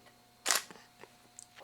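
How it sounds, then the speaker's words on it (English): A Nikon D7100 or D7200 DSLR fires its shutter once with a sharp, quick mechanical clack in a quiet room, followed by a few faint small clicks. "Let me snap a photo."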